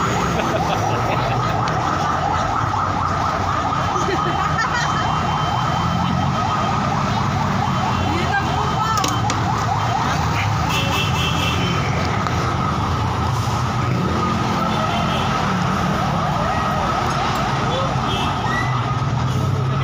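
A fire truck siren wails continuously and loudly on a highway, blending with traffic noise as people talk excitedly nearby.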